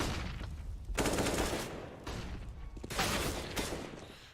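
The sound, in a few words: gunfire in the video game CS:GO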